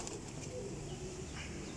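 Pigeons sold as high-flying birds coo softly in a steady low murmur, faint and continuous, with a light flutter and no talk over it.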